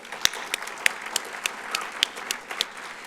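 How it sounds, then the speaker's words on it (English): Applause at a workforce summit kick-off for event sponsors, a sparse scattering of distinct claps at irregular intervals over a quiet room, moderately loud and not building into a full ovation. "Let's have a round of applause."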